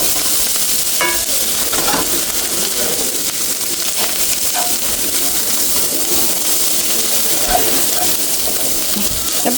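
Shrimp frying in oil over a wood-fired stove outdoors in Michigan, a steady bright sizzle with occasional stirring clinks and faint birdsong, voices speaking briefly.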